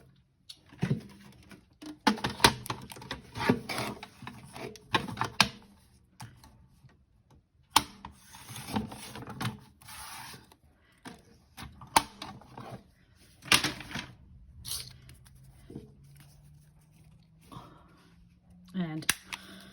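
Scissors cutting a paper strip for a handmade concertina ephemera folder, heard as a series of close, sharp snips in irregular bursts, with quiet rustling and handling of paper between the cuts.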